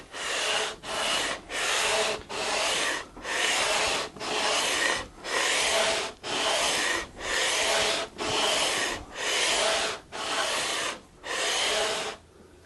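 Rhythmic rasping strokes of sandpaper by hand on a wooden guitar fretboard attached to the neck, about a dozen even back-and-forth passes with brief pauses between, close and fairly loud.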